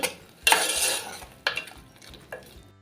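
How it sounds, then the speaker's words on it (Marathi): Green masala paste with prawns and papaya being stirred and sautéed in a pan: a few metal scrapes and clinks of a spoon against the pan, the loudest in the first second and two lighter strokes after, with only faint sizzling. "तर आता एखाद दोन मिनटं हे परतवून घ्यायचं"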